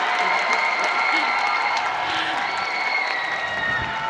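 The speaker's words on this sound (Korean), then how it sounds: "여러분 큰 박수 부탁드립니다" Steady crowd applause at a Busan International Film Festival open talk, moderate in level and continuous throughout, with a faint tonal hum running underneath and no clear talk over it.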